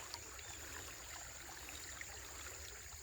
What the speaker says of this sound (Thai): น้ำไหลนะครับตรงนี้